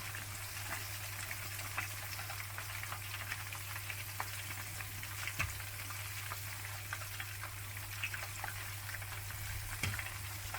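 Fish pieces fry in hot oil with a steady, close sizzle and scattered crackling pops, carrying on unbroken under a low hum with occasional faint clicks as the pieces are turned.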